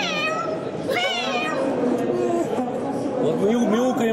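A pet parrot imitates a cat's meow with a run of nasal, wavering mewing cries over a steady background, and a person talks softly in the room throughout.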